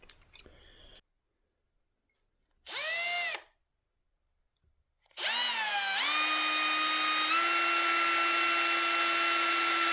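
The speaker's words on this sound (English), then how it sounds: "Give myself a little line so I can align my drill bit when I'm drilling in there." Power drill boring into a wooden bass guitar body, a brief spin-up, a pause, then a loud, sustained high-pitched whir that climbs in speed and holds steady, close and alone.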